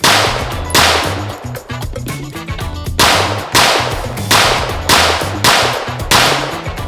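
Loud, sharp pistol shots from a factory-compensated MAC 9DS firing 124 grain Remington UMC 9mm rounds, about eight close reports in a fairly even, rapid rhythm, each echoing briefly.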